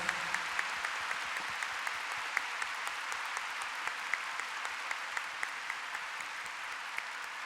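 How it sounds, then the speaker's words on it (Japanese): Steady audience applause at a girls' group audition event, a dense, even patter of many hands clapping continuously at moderate volume with no break. "改めまして7人に皆様大きな拍手をお願いできればと思います。"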